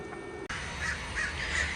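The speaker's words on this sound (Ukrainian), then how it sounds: "одразу почали кричати, здається, це ворони" Crows call outdoors in a yard in the USA, giving several loud, harsh caws in quick succession after a brief cut, fairly close and without talk.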